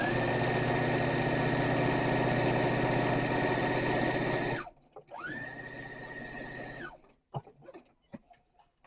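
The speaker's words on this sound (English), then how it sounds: "I'm just going to sew right along it" A sewing machine stitches quilt squares together, running as a steady loud motorized hum for several seconds, pausing briefly, then starting again for a shorter second run before a few soft handling clicks.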